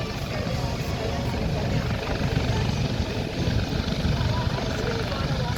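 A US Coast Guard Dauphin helicopter hovers at an airshow, its rotor and turbine noise a continuous, fairly loud whir with voices talking over it.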